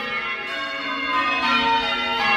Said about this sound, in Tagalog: Parang isang oras na yung nagbe-bell.